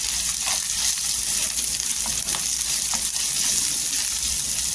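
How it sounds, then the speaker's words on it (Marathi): Green chillies sauté in hot oil with salt and garlic in a home kitchen, a steady dense sizzle and crackle filling the whole stretch with a few soft stirring clicks, close and even. "चवीनुसार मीठ टाकायचं आणि तेलावर छान अशा परतून घ्यायच्या"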